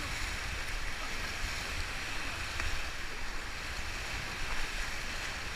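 Ocean surf crashes steadily around a raft being paddled through the last waves, a continuous loud wash of water with wind rumble on the microphone and no speech.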